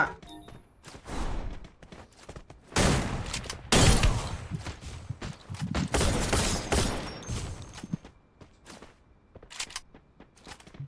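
Bursts of gunfire ring out in the mobile battle-royale game Free Fire, fast volleys and single shots clustered through the middle, with thuds and footsteps between them.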